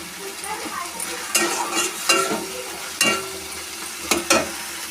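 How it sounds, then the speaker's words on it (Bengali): Chili and garlic sizzle in oil in a pan over a low flame for mushroom curry, while a spoon scrapes and stirs in repeated strokes that rise above the steady frying hiss. "লঙ্কা এইভাবে নাড়িয়ে যেতে হবে, একটু স্লো ফ্লেমে নিতে হবে।"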